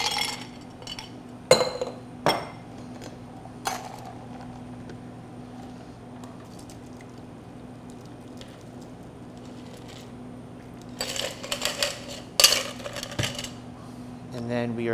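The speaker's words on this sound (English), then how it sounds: "We're gonna double strain over new ice." A cocktail double strained over fresh ice into a glass gives a few sharp ice clinks and glass taps scattered through a quiet stretch, with a denser cluster of rattling near the end over a low steady hum.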